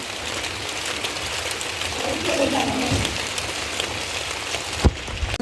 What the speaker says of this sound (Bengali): তারপরে বৃষ্টি নামছে